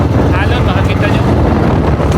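Small fishing outrigger boat out at sea, its engine droning steadily and loud while pounding through strong waves, with heavy wind buffeting the microphone throughout.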